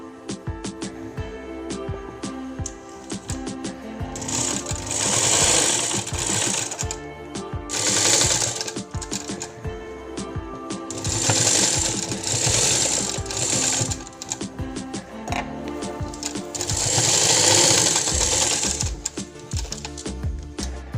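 A sewing machine stitches a one-year-old baby's frock in rapid mechanical bursts, loud and close, running in several runs separated by short pauses.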